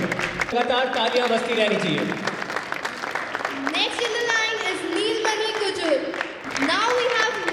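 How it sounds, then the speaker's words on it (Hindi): Sustained clapping from a crowd at an honoring ceremony for contributors, continuous and fairly loud across the whole stretch, with voices talking and calling out over it. "लगातार तालियां बजती रहनी चाहिए"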